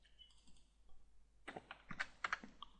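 Keys on a computer keyboard are tapped to enter a number into CAD software, a short run of sharp, close clicks that starts after a quiet stretch and ends with a few louder strikes.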